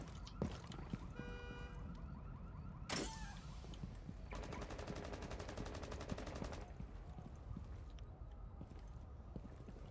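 Gunfire exchange in the tactical shooter Rainbow Six Siege, heard as a few sharp reports with a dense rattling burst in the middle, moderately loud amid game ambience.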